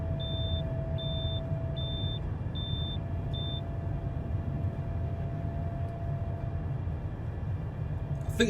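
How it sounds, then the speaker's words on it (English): Warning beeps in an aircraft cockpit during a quiet flight: five short, evenly spaced electronic tones in the first few seconds over a steady low engine drone, with no talking. "I think that's a weather warning beeping thing."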